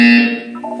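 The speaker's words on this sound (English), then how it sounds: "You will hear a buzzer." A buzzer in a Portal 2 test chamber: one loud, steady electronic drone that starts at full strength and then tapers and wavers before cutting off.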